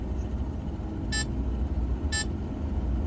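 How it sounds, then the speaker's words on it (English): Two short electronic beeps about a second apart from a Liebherr LTM1055 mobile crane's Bluetooth remote, over the crane's low, steady engine rumble. "Hold that down until it starts beeping, then you'll be back into road mode."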